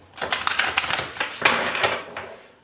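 A stiff tarot deck is shuffled, giving a dense run of rapid card riffles and flicks that fades out toward the end.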